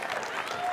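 A burst of audience applause at an alumni awards ceremony, steady and dense clapping filling the brief moment with no gaps.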